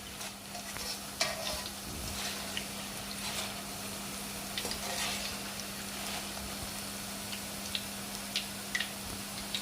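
Boondi frying in hot oil, a steady soft sizzle and bubbling with scattered small pops and ticks, close and continuous with no talking.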